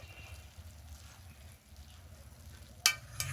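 Bundiya being stirred in milk in a pan over low heat, soft bubbling and scraping strokes at low level, with two sharp clinks near the end.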